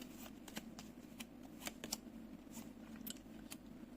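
Tarot cards shuffled and drawn by hand, a series of crisp, quick riffling snaps and slides close by, fairly quiet against a low steady hum, with no talking.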